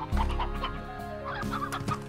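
Chickens in the Slime Rancher video game cluck in quick, close, continuous bursts, a busy overlapping chatter of game fowl with no voices over it.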